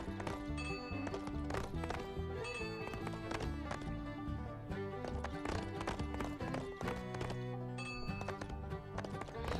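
Rhythmic clip-clop of horse hooves in the video game Toy Story 3 Toybox, over a busy musical backdrop, with occasional whinnies, continuous and fairly loud.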